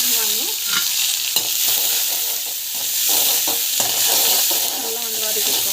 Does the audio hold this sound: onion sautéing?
yes